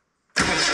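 A Mobile Dimension sawmill engine catches abruptly on the turn of a key after a brief silence. It jumps straight into a loud, dense running roar.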